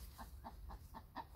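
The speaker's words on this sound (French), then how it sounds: "la poule vient de pondre et elle vous passe le bonjour." A hen clucks just after laying an egg in a garden setting, giving five evenly spaced, moderately close clucks in a steady rhythm with no talking.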